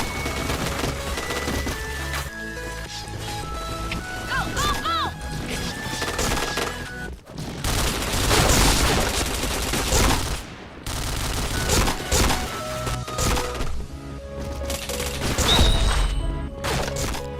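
Gunfire in a shooting video game: dense, loud bursts of rapid shots and crashing impacts for most of the stretch, broken by a brief lull, with game music tones underneath and no audible talk.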